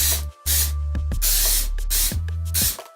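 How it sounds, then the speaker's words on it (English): A spray can of cooking oil hisses close by in several short and long blasts, with a low mechanical hum underneath. "Spray that with some vegetable oil or olive oil also."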